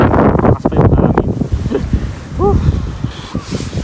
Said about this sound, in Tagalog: Sobrang lakas pa yung hangin.